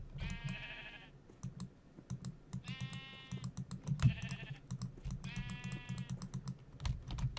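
Sheep in the video game Minecraft bleat in three separate bursts over quiet background, while computer keyboard typing and mouse clicks tap away steadily throughout.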